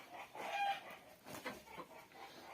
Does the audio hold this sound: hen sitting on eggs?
yes